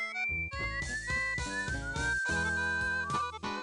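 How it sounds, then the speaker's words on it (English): Whistled tune in the video game Space Quest 6, a bright pitched melody over clipped rhythmic synthesized game music, steady and alone. "Oh god, I can't take whistling."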